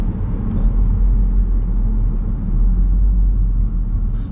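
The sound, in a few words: VW Golf R 2-litre four-cylinder engine running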